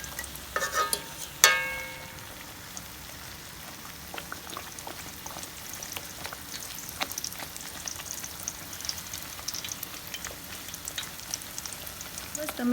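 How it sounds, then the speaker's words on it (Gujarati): Layered chiroti puris frying slowly in oil, a faint continuous bubbling sizzle with a sharp clatter near the start, otherwise quiet and even. "બસ તમે આવી રીતે આસ્તે આસ્તે એને તળજો"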